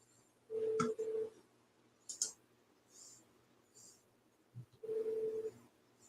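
Telephone dialing a seller's number, a few short tone bursts and keypresses spaced through a quiet stretch, fairly faint and close with clicks in between.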